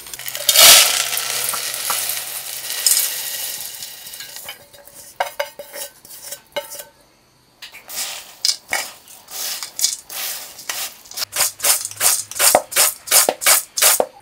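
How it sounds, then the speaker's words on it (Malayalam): A home-made snack mixture is tossed with chilli powder, asafoetida and salt in a large bowl: a loud rustling sweep at first, then quieter scrapes, followed by a quick series of rhythmic crunchy stirring strokes. "നമുക്കൊരു വലിയ പാത്രത്തിലേക്കിട്ട് ഇത് മിക്സ് ചെയ്തെടുക്കാം."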